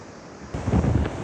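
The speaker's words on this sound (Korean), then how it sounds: "지금 파도 가까이에 와봤습니다." Ocean waves break on a sandy beach at Songjeong, a loud surging rush that swells suddenly halfway through, close and roaring, with wind buffeting the microphone.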